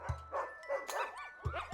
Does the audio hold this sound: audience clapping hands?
no